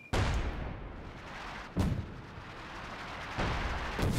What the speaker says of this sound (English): I think it fires off 4 shells.